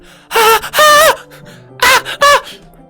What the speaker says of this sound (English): Sounds like breathing. A sharp inhale, so like someone sucking air through their teeth.